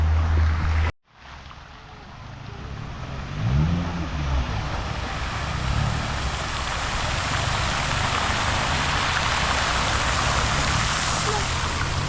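Rain falls steadily as a broad, even hiss across an outdoor scene in Baguio, continuous and moderately loud throughout, with low rumble underneath and a brief dropout near the start.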